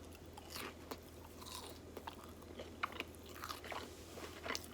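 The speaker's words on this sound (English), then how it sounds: "You guys hear that crunch?" Crisp crunches of biting into cooked snapper topped with fresh lemon: a few quiet, close bites and chewing crackles spaced irregularly over a soft background hiss.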